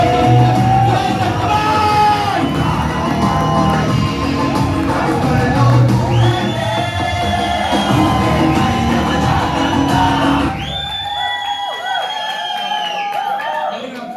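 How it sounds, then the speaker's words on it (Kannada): A crowd at a Bangalore network-marketing gathering cheers, whoops and yells loudly and continuously, with voices mixed throughout, before the noise thins to scattered higher calls near the end. "ನಿಮ್ಮೆಲ್ಲರ ಒಂದು ಗ್ರ್ಯಾಂಡ್ ಚಪ್ಪಾಳೆ ಮುಖಾಂತರ ITC"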